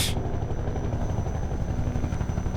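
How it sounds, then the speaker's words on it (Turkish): Helicopter rotor thudding steadily from a Hunter-Chopper attacking in Half-Life 2, with a loud, continuous low beat and engine whine throughout, no talking. "Avcı helikopter saldırıyor."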